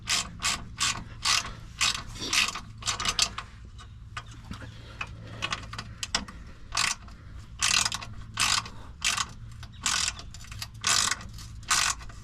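A hand ratchet clicks in steady repeated bursts while tightening bolts on the air leveling switch of a 2016 Infiniti QX80, close and crisp over a faint background hum, with pauses between strokes.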